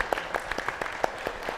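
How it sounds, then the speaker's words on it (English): A brief round of applause from a small audience at a public talk about the redesigned Minnesota state flag, sparse individual claps in an uneven rhythm, fairly close and moderate in level. "So I give him a round of applause."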